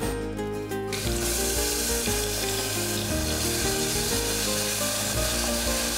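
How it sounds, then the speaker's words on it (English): Cumin seeds and garlic ginger paste frying in hot oil for a split pea and potato gravy, a dense continuous sizzle and spatter heard up close over soft background music, with no voices. "Now that the jeera has started spluttering, I will add in the garlic ginger paste."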